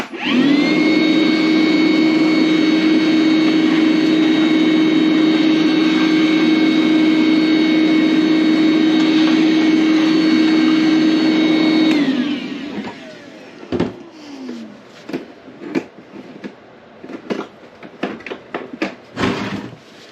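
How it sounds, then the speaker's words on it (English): A DeWalt shop vac roars loudly and steadily as it vacuums debris out of a heater, then winds down around twelve seconds, leaving scattered clicks and clunks of parts being handled. "I'll take the DeWalt shop vac here and get this stuff out of here"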